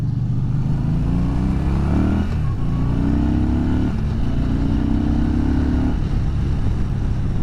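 A 2020 Yamaha Bolt R-Spec motorcycle engine while riding throbs with a deep, loud rumble that rises and falls through several gear changes, heard up close with steady wind noise.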